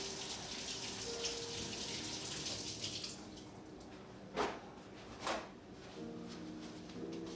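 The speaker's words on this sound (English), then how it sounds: "First I want to wash my hands real quick." Hands being washed under a running kitchen faucet, a steady close wash of water for about three seconds, then quieter trickling with a couple of brief clunks.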